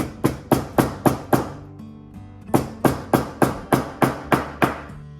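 Silver back plate and bezel wire hammered flat on a jeweler's bench, about fourteen sharp metallic strikes in quick, even bursts, loud and close, with a brief pause between two runs of blows.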